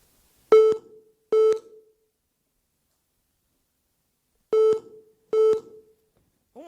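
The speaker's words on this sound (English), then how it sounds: "Phone calls have started, phones have started ringing." Telephone line beeps on a radio call-in show: two pairs of short, clean electronic tones, each pair closely spaced, separated by a long silence.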